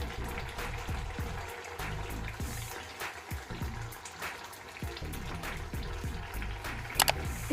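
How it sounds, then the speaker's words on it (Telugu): Water pours steadily into a pot of bottle gourd soup in a home kitchen, a soft continuous splashing and gurgling at close range, fairly quiet. "ఇందులో ఇంకా కొన్ని వాటర్ వేసుకుందాం"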